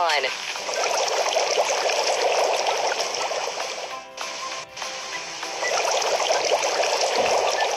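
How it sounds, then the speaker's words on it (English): Water flows from a toy fountain in a steady hissing trickle that drops out briefly in the middle and then resumes, close and continuous. "Let's fill it with water and turn the fountain on."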